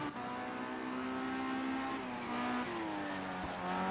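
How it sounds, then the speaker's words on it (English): A race car in Project CARS 2 on the Fuji GP circuit revs and accelerates in a steady, sustained engine drone with rising and shifting pitch, moderately distant and continuous. "Sounds like a car just recovering up ahead."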